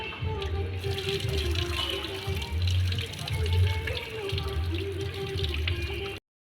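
Water runs steadily from a tap, splashing continuously for several seconds before cutting off abruptly.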